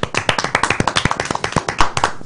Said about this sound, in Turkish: Alkış yok mu alkış?